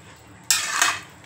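A spoon scrapes and clinks against a cooking pot while ghee is mixed into mushroom biryani: one brief, bright metallic stir of under a second over a quiet background.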